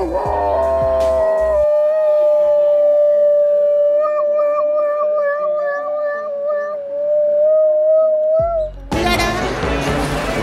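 A dog howls in a long sustained rising and falling wail, imitating a passing fire truck siren, loud and close, with noisy bursts before and after.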